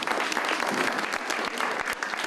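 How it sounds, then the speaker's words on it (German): An audience applauds a favourite musician, dense, steady clapping filling the whole stretch at even loudness with no voices on top. "Kriegt mal einen Applaus für euren Lieblingsmusiker."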